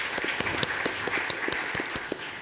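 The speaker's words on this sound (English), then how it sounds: "let's give our teachers a big round of applause" Audience applauding teachers at a school meeting, a steady crackle of many hands clapping with sharper individual claps standing out across the whole stretch.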